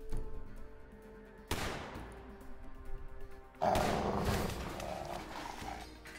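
Shotgun blasts in a tense video game boss battle, two loud booming shots a couple of seconds apart, each followed by a long rumbling decay.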